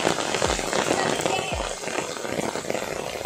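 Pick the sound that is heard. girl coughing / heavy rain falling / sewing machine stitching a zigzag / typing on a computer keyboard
heavy rain falling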